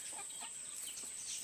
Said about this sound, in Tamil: அங்கே ஒரு வெள்ளை சேவல் குஞ்சு.